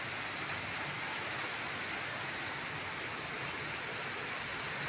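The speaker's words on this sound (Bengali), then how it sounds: "আর এই দেখো বৃষ্টি পড়ছে," Steady rain in Siliguri falls evenly as a dense, constant hiss with a few faint drip ticks, close and unbroken throughout, with no voices.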